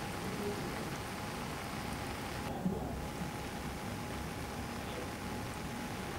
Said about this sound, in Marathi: आजही दमदार पाऊस बरसतोय